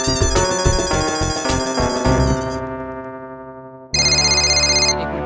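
A loud electronic phone ringtone plays a bright repeating melody, pauses briefly as it fades, then starts ringing again sharply.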